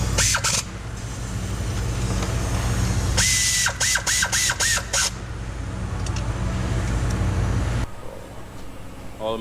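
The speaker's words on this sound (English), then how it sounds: "All the manifold bolts are in, they're tightened up, 50 Newton meters of torque." Ratcheting clicks from a wrench tightening turbo exhaust manifold bolts on a Hyundai Genesis Coupe 2.0 during a Tomei turbo install, with bursts of rapid ratchet strokes over steady background hum in a workshop.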